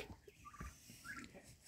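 Turkeys newly placed in a pen on an off-grid homestead give short gobbling and chattering calls, fairly faint and close by, with a few scattered clucks and no talking.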